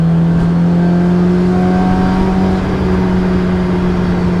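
A Honda S2000 with a Kraftwerks supercharger roars loudly and continuously while accelerating, a strong tonal drone with a slight rising whine as it pulls, no voices.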